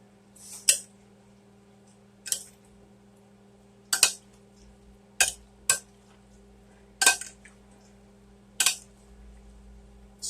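Green beans being stirred in a bowl, with about eight sharp utensil clinks against the bowl at uneven intervals over a low steady hum, close by and without talk.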